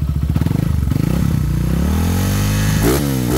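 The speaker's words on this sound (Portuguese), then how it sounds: "é um barulho de comando que a 160 faz original" A Honda Fan 160 motorcycle engine, stock but fitted with a Hornet piston, idles close by with a steady mechanical clatter that matches the camshaft noise, then revs briefly near the end.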